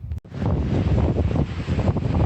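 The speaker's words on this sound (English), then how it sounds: "Starting to get real windy out here." Strong wind blows outdoors on the Continental Divide Trail, a loud, continuous rumbling buffet against the microphone, briefly cut off near the start and then roaring steadily.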